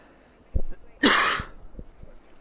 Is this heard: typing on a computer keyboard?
no